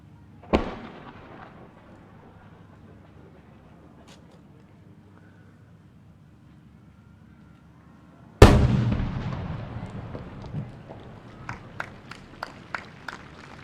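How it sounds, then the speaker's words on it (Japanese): Fireworks launched at the Sanriku fireworks festival in Japan. One sharp boom comes early, then a much louder blast with a long rumbling decay, followed by a rapid series of crackling pops. "それではそのメッセージを込めて花火を打ち上げます。"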